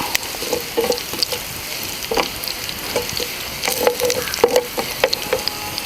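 Kashmiri chillies roast in a pan over a medium flame, giving a close, steady sizzle broken by scattered sharp crackles and pops that bunch together toward the end.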